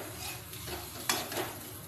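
Loitta fish fries in plenty of oil with a soft continuous sizzle, while a utensil scrapes and stirs the pan in a few brief strokes. The sound is close but fairly quiet, and no one speaks.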